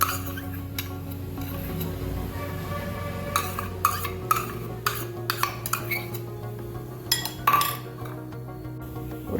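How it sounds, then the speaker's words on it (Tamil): A spoon clinks and scrapes against a bowl while chocolate and unsalted butter are stirred as they melt over a double boiler, with irregular light taps and chinks close by. "இதையே டபுள் பாய்லர் மெத்தடில் மெல்ட் பண்ணிக்கலாம்"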